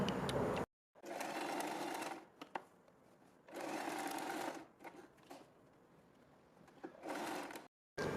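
A sewing machine stitches around the folded edge of fabric for a boat neck, running in three loud, close bursts of steady whirring with quieter pauses for repositioning between them, and no talk.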